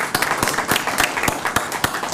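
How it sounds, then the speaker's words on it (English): An audience at a Corpus Christi Regional Transportation Authority meeting gives a round of applause to welcome new staff starting their careers, with steady, dense clapping from a group and sharp individual claps standing out. "I'd like to give him a round of applause for starting their career here at RTA"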